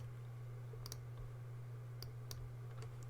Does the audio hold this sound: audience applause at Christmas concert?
no